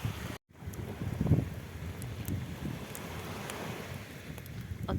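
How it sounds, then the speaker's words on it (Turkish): Sea waves wash steadily onto the shore at Dikili's Polyak coast during shore fishing for sea bass. They come as a constant rushing wash mixed with heavy wind buffeting on the microphone, with brief pauses and faint clicks. "dalgaların sesi"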